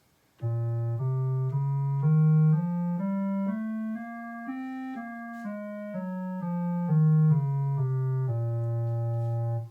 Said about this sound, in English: So when I play the melodic minor all the way,